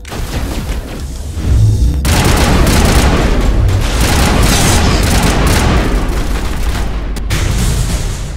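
Dense, sustained gunfire and booming explosions in a Mass Effect battle, loud and continuous, starting after a short quieter lead-in and rolling on without pause through the rest of the firefight.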